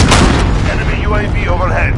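A loud incoming-missile explosion in a first-person shooter video game booms at the start, then a rumbling tail continues under a voice speaking over it.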